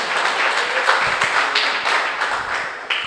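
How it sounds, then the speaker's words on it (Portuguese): Congregation applauding during a church service, a dense, steady wash of many hands clapping throughout, fairly loud and close with no voice on top. "Dê um aplauso a Ele, em nome de Jesus."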